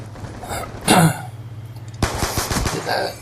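Pistol gunfire in a Call of Duty–style multiplayer match: a sharp burst near one second, then a rapid string of loud shots from about two seconds on, over steady game background noise.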